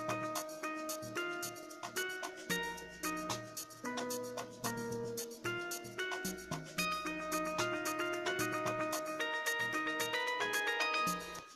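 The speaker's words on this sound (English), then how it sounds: "Moving on to my next instrument, it's the sweep, and it sounds just like this" Synth sweep part from an amapiano beat made in Caustic 3, heard as bright, bell-like synth notes over pulsing rhythmic hits, moderately quiet and continuous with no talking.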